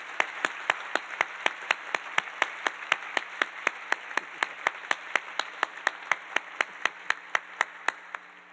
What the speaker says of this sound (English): let's give them a big round of applause and welcome them